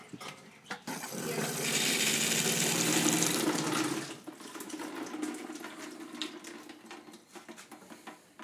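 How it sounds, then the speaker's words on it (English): Cold water rushes steadily from a trailer sink faucet during a plumbing test on an M101 trailer build, a loud, close, broadband gush lasting about three seconds before dropping to a softer trickle and room noise. "now we have cold water running to the faucet"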